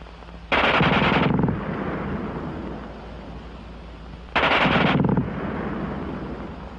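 A WWII German machine gun fires two long, loud bursts of very rapid shots, each followed by a rolling echo that fades into the open surroundings.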